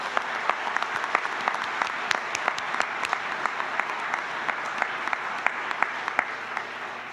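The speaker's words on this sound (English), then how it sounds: "a huge round of thank you applause for the University of Idaho with this beautiful venue" An audience at a state invention finals awards event claps steadily for a university host, a dense, even patter of applause with sharp individual claps standing out near the mic.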